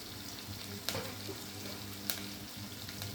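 Onions, green chilies and dry red chilies frying in hot oil in a pan, a continuous close sizzle with two sharp clicks or spoon taps standing out.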